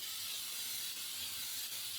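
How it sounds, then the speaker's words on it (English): Cooking spray hisses onto a cookie sheet being greased for baking, a continuous close, bright spray with no talk throughout. "I have to grease it, so I'm going to spray it"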